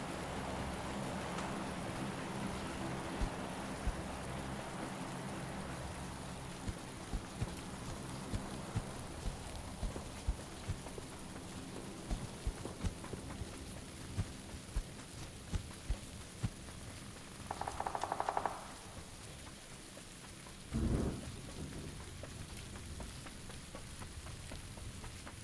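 Steady rain patters on a surface in a continuous wash of noise, with a short hum swelling briefly near the end and a single soft thud after it; no thunder stands out.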